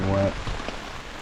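Rain falls on a wilderness lake campsite as a steady, close hiss of drops. A brief voice or tone is heard at the very start, and the rain continues on alone afterward.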